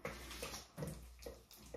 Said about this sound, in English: the sink is dripping